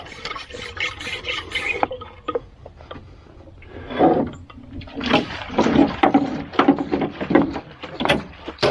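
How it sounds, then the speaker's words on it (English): A container of sealer is shaken hard, giving irregular knocking and sloshing bursts, then pumped a couple of times; the handling is close and moderately loud. "all I do is give it a good shake"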